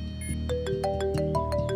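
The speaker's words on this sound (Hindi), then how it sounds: "ये तो फोन आ रहा" A phone rings with a tonal melodic ringtone that rises in steps over a steady background bed during a Punjabi movie scene, with no one talking over it.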